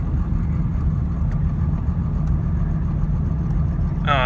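Heavy duty truck climbing a mountain farm road in Pennsylvania, a steady, loud low engine drone and cab rumble throughout, with a few faint clicks and a brief higher whine at the end.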